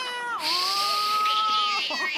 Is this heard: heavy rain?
no